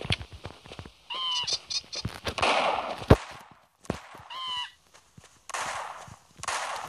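Sharp gunshots from a hunting rifle in the dinosaur-hunting video game Carnivores: Ice Age, several loud cracks scattered among bird-like calls and ambient game sounds, with no talk.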